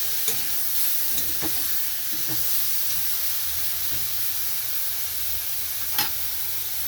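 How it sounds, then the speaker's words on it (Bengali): Ground turmeric, cumin and Kashmiri chilli frying in a pan give a steady, close sizzle and hiss, with a few faint stirring scrapes and taps. No one speaks. "মশলাটা দেওয়া হয়ে গেছে, তো ভালো করে কষাতে হবে।"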